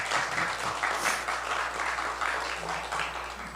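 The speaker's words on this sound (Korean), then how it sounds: "우리 두 분 교수님 미리 격려의 박수 한번 쳐줄까요?" A congregation at a Reformed theology forum's opening worship service claps in encouragement for two professors, a steady, even burst of many hands at moderate level, with a low hum running underneath.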